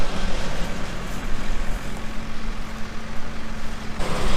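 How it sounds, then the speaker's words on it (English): Combine harvester cutting soybeans right alongside, a loud continuous engine roar and rushing mechanical noise with a faint steady hum, unbroken until a slight drop near the end. "There's a combine right next to me harvesting soybeans"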